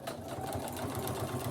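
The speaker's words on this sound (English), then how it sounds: "and it's going to start to sew." An SE1900 sewing machine stitching steadily, a fast even mechanical whir and rhythmic clatter running throughout, close and moderately loud.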